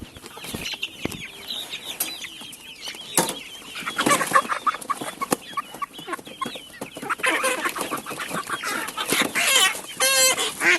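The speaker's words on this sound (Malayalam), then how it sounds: "ഇത് പൂവനാണ് പേടയാണ്" Black Kadaknath-type chickens clucking and squawking close by, a busy flock of hens with a rooster among them, continuous and overlapping, with occasional wing flutters.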